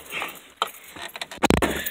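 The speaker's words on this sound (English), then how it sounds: "of course the keys fall" Metal keys jangle briefly while an old truck is unlocked, a few soft clinks followed by a louder cluster of rattling jingles near the end, close to the microphone.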